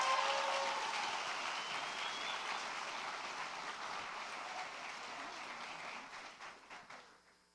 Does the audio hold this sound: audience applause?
yes